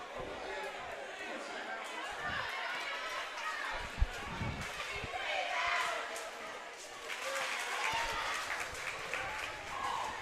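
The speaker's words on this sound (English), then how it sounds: "this West Memphis crowd has really come alive here in the third quarter" A West Memphis home crowd cheers and murmurs through a basketball game in a gym, a broad, steady roar with rising swells and a sharp bounce or thud, heard under a commentator's talk.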